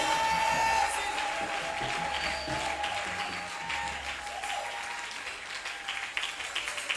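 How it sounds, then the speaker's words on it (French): Church congregation at a special Sunday service applauding and cheering loudly, a dense, sustained wash of clapping and crowd noise that eases slightly toward the end. "acclame très fort Jésus-Christ de Nazareth."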